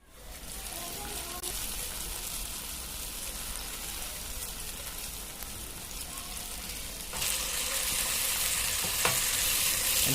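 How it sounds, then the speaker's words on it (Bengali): Chicken pieces frying in oil in a frying pan, a steady close sizzle with occasional stirring, growing louder and brighter partway through as the frying intensifies. "এখন ফ্রাই প্যানে তেল দিয়া এর মধ্যে এই মাংসগুলো সুন্দর করে দিয়ে এপিট ওপিট করে দিয়ে ভাজা ভাজা করে দিলাম"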